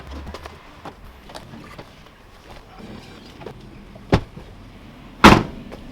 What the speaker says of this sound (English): You can also fold the pedals down